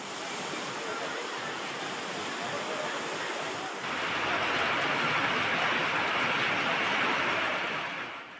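Sea waves on the beach in front of the Murugan temple at Tiruchendur, where the shore is eroding: a steady broadband wash of surf that swells louder midway, with some wind noise.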